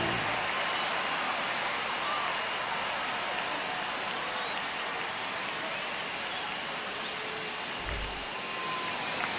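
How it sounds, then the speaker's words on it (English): Baseball stadium crowd at a Red Sox at Rangers game, a dense steady roar of cheering filling the space with no clear individual voices. "the crowd is amped up, ready to get this season underway"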